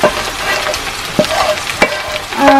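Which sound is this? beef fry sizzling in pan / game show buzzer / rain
beef fry sizzling in pan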